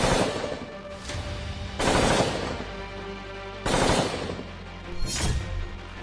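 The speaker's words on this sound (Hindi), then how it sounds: "इनमें सबसे ज्यादा कारगर हथियार है असमी सब मशीन गन" Bursts of fire from an ASMI submachine gun, Indian Army issue with 33-round capacity, come as about four sharp, loud blasts spread evenly over several seconds, each with a ringing tail and no voices.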